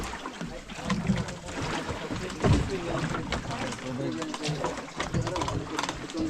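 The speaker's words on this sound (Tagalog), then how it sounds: "Bangka." A bangka boat moves over water with a rhythmic churning, knocking engine-like rumble, while people talk close by over it.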